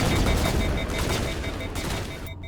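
Heavy sustained gunfire in the Mass Effect video game, loud rapid bursts that fill the whole stretch before cutting off abruptly at the end.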